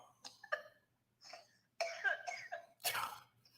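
Several dry coughs and throat clearing, close to the microphone, coming in short separate bursts with quiet gaps between them.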